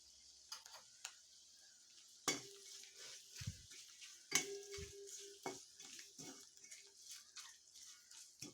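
Turmeric and spices sautéing in a pan for red pumpkin curry, a soft sizzle under scattered scrapes and clinks of a spoon stirring against the metal.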